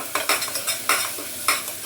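Masala paste (vatan) for a red pumpkin and chole dish is stirred and fried in oil in a kadhai, giving repeated scraping strokes with a steady sizzle in an uneven, close rhythm.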